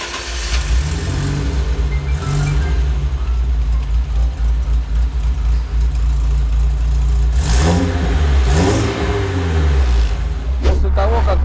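A Lada Niva Urban with a tuned exhaust and remapped engine rumbles at idle, then revs sharply twice in quick bursts, loud and close, with a final blip near the end.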